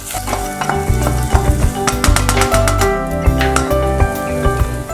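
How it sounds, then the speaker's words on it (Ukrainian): Tomato paste fries in a pan while a utensil stirs it, bringing loud close sizzling and crackling with repeated scraping and clinking strokes against the pan, no speech. "І помішуємо. Трішечки підсмажуємо, але обережно, оскільки томатна паста має тенденцію швидко прогорати."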